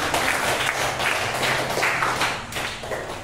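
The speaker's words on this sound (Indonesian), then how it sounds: "tepuk tangan untuk Putra dan" Classroom applause for a student, a dense, loud burst of many hands clapping throughout, with no talk over it.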